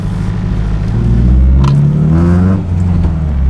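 A manual car downshifts from third to second gear at slow speed, the engine note rising in a steady rumbling rev before settling back to a lower drone, close and fairly loud.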